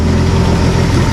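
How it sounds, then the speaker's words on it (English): A Datsun truck engine idles just after a carburetor swap, a loud, steady, close rumble with an even low-pitched throb and no voices. "decent, and it's idling. It's been idling for probably about 10 minutes now"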